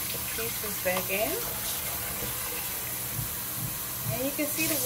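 Seitan being washed under a running kitchen tap in a sink: a steady faint hiss of flowing water with soft splashes, while a voice talks over it.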